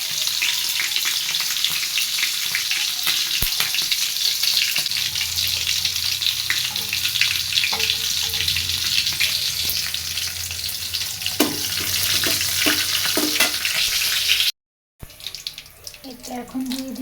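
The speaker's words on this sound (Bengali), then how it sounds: "এখন তেলের মধ্যে দিয়ে দিলাম কাঁচামরিচ," Green chilies and panch phoron spices fry in hot oil, giving a loud crackling sizzle, with tap water running and scattered clinks from stirring, heard up close for most of the stretch before a brief break and a quieter return.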